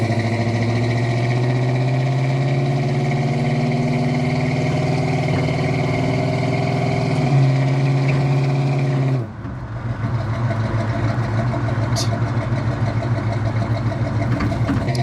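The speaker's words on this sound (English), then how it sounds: "Today we are in a 1965 Pontiac GTO with a 389 and an automatic transmission." A 1965 Pontiac GTO with a 389 V8 and automatic transmission runs close by, its deep, steady idle rumbling and then shifting to a lower, rougher tone partway through, with no talking.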